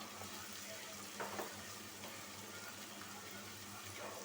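Ground spices and turmeric sizzle faintly in a pan during a Bangladeshi beef shank and chickpea lentil dish, a low, even frying hiss with a few soft stirring scrapes throughout.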